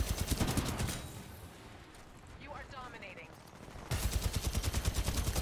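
Rapid automatic gunfire in Titanfall 2, loud repeated bursts at the start and again near the end, with a quieter stretch of game sounds and a voice in between.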